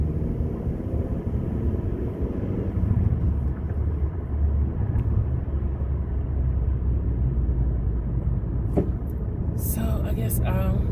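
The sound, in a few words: road traffic heard from inside a car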